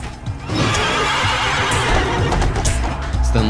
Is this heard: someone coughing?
no